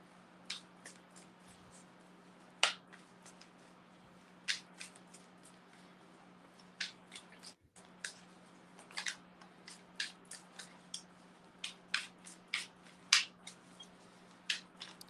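Tarot cards being shuffled and handled, giving soft, scattered card slaps and riffling snaps at an irregular pace over a low steady hum, close and fairly quiet.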